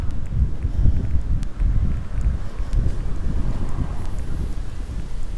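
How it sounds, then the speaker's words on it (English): Strong wind gusting outdoors on the Île de la Cité near Notre Dame in Paris, a loud, low, buffeting rumble hitting the microphone continuously, with faint distant street sounds underneath. "Wind, wind, wind."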